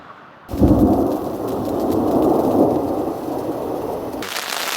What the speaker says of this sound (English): it's raining and thundering hard